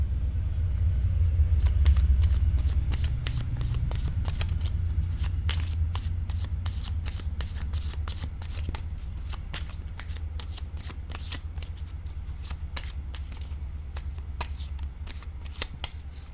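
Playing cards are shuffled and drawn by hand, giving a long run of rapid, close riffling and snapping over a low steady rumble in the background.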